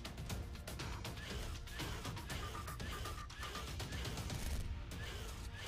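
Rapid, dense video game gunfire rattles continuously in a fast stream of shots, mixed with crashing impacts and busy game sounds throughout.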